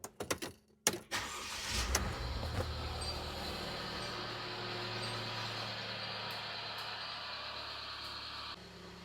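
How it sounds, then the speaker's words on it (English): A vehicle engine fitted with an alternator charger cranks with a few clicks and whirs, catches, and settles into a steady, fairly quiet idle that runs on alone until a slight drop near the end. "let's go ahead and fire the engine"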